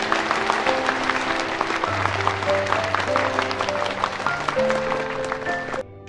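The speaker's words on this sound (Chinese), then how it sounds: "掌声和祝福送给他们好吗？" Wedding guests clap at a ceremony right after the couple exchange rings, a dense, lively applause that runs steadily over background music before cutting off near the end.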